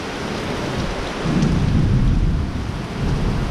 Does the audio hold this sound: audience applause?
no